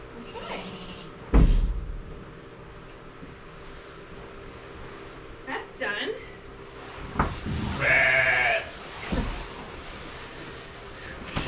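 Shetland sheep ewes bleat in a barn section, a few scattered calls of varying strength, one longer and louder near the middle, over low background rustle and handling noises.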